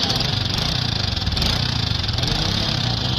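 A Honda XRM 125 motorcycle, stored for nearly a year and just brought back from carburetor trouble, runs at a steady idle close by, a loud continuous buzzing putter with no voices over it.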